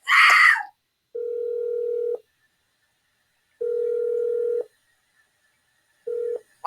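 Telephone tones, likely a dial tone and dialing to a hotline, play as steady mid-pitched beeps in three separated bursts after a brief loud noise at the start, with no talking.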